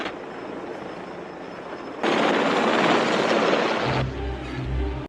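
Helicopter flying in a Rambo film scene, a loud broadband rotor and engine roar that swells sharply midway, then drops back to a lower rumble with a droning hum, with no talk.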